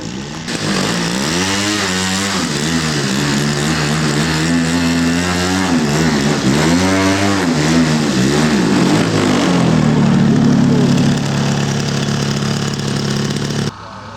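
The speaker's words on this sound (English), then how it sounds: "Piper Cub taxiing into position" A scale model Piper Cub aircraft engine buzzes loudly and close while taxiing at an outdoor scale aircraft show, its pitch rising and falling in repeated revs before settling into a steadier, louder drone, with no speech over it.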